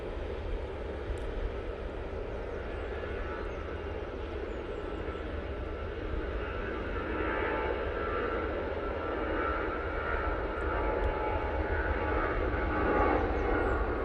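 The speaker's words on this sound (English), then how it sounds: "there goes the Aer Lingus" An Aer Lingus airplane passes at Manchester Airport, a steady, broad engine roar holding evenly for the whole stretch and swelling slightly toward the end, with no talk.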